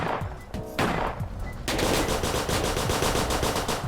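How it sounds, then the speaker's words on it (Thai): Rapid automatic gunfire in Roblox, with a few separate shots first and then a sustained dense burst of firing that carries on to the end. "โอเคยิงปืนเหมือนเดิม"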